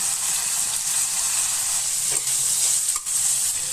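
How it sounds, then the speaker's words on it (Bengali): Spices and Kashmiri chilli powder fry in a pan over chicken, giving a steady, loud, close sizzle with brief scraping stirs and no talking. "ভালো করে ভেজে নিয়ে মশলাগুলো দিয়ে দিচ্ছি"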